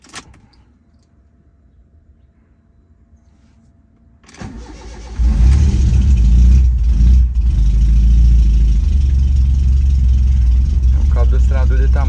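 A turbocharged car engine starts after a quiet stretch, then runs loud and steady with the accelerator held to warm it up, a continuous heavy rumble close by.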